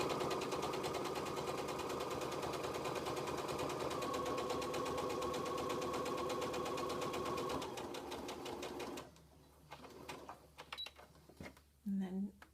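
Sewing machine topstitching a flannel washcloth, a fast steady mechanical stitching rattle that stops near the end, leaving a few short clicks and bursts as the needle is sunk and the fabric turned; someone talks over it.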